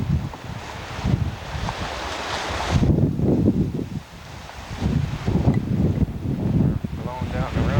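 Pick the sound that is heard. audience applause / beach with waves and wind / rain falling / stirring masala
beach with waves and wind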